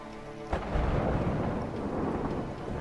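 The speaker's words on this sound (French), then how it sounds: "Let's time it with the thunder." Thunder in the prison-escape video game A Way Out: a sudden crack breaks into a loud, deep, sustained rumble that rolls on for several seconds without speech.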